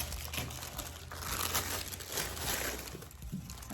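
Paper stuffing for a gift basket crinkles and rustles steadily throughout, close and continuous, with no talking.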